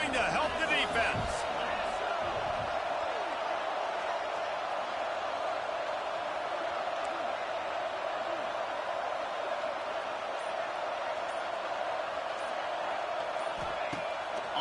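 A stadium crowd roars steadily throughout a Michigan versus Miami college football game in NCAA 26, a loud sustained wash of cheering and noise beneath continuous play-by-play commentary.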